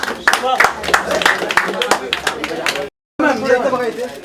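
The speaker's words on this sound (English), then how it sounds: "Please give a huge round of applause." An audience claps at a fitness tips event with an actress. Scattered claps mix with loud voices and chatter, and the sound cuts out briefly near the end before resuming.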